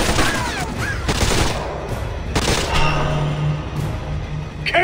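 Gunfire during a mission at the Michigan Avenue Reservoir in the video game Splinter Cell Conviction: repeated bursts of shots over a dense, continuous game soundscape, fairly loud throughout.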